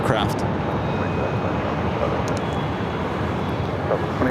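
An airliner departing runway 7 left at Phoenix airport gives a steady, dense roar that holds evenly throughout, with muffled voices faintly beneath it.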